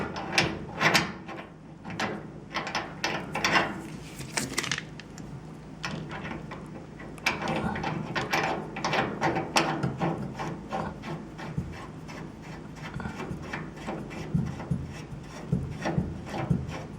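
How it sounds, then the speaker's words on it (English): A compression hose fitting on a Samsung gas range is tightened by hand, giving a string of faint rubbing clicks and small scraping ticks close by, mostly steady with brief busier bursts. "Take the compression hose and hand tighten it first."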